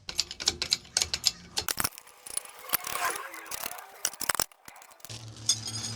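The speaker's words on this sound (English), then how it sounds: "Torquing U-bolts." Ratchet wrench torquing U-bolts on the leaf springs of a Jayco Octane travel trailer: quick, close metallic clicks and clinks in short bursts, with a low hum in between.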